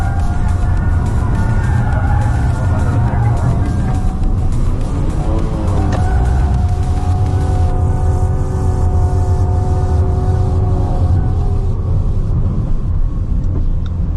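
A Tata Altroz Racer hatchback pushed hard through a high-speed section of a race track, its engine droning loud and steady from inside the cabin with rising and falling tones as it takes the corner.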